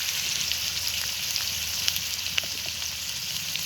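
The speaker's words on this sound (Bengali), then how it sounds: "তেলটা গরম হয়ে গেছে, এবারে আমি চিংড়ি মাছের ঝোলগুলো দিয়ে দেবো" A prawn paste ground from raw prawn heads with ginger, garlic, cumin and onion goes into hot oil, giving a steady, loud, crackling sizzle with scattered pops throughout.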